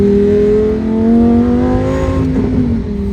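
A 2023 Lamborghini Huracan Tecnica accelerates hard and loses traction, its engine a loud, close, steadily rising drone that climbs in pitch with a whirring edge, heard on its own without talk.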